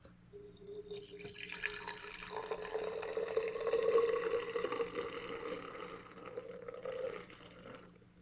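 Vinegar poured into a tall glass, a soft trickling liquid stream that builds in the middle and fades out after several seconds, quiet and close.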